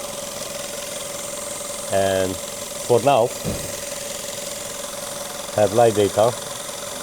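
A Skoda car engine idles steadily with a throttle body fault code, a constant low hum and faint whine running under short bursts of a man's speech.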